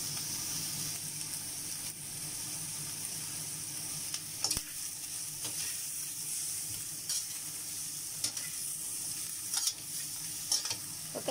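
Pig's trotter fries and browns in a pan with a steady close sizzle, broken by a few brief clinks and scrapes of stirring, no voices.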